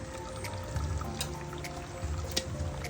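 Small amount of water poured into a pot of small crabs (talangka) at a farm kitchen, a continuous trickling pour with faint drips and splashes, close by and fairly soft, no talking.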